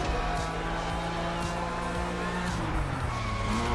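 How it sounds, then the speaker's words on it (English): Tires skid and squeal on a stock car in The Crew Motorfest racing game, a continuous engine drone with sliding tire noise at moderate level, no talk over it. "You can definitely tell it's stock when the tires don't give you much grip at certain speeds."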